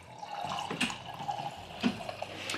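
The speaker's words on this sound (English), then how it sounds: "Let's pour them and do the taste test." Homebrewed IPA is poured into glasses, a steady soft liquid trickle and splash with a couple of louder glugs, fairly quiet and close, with no talking.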